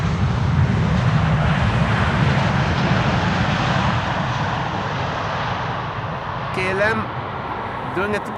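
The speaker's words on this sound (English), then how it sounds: "KLM doing a typical landing. Idle reverse, keeping up the speed" A KLM airliner landing at Amsterdam Schiphol with idle reverse thrust produces a steady, loud broadband engine roar that slowly eases, with brief speech near the end.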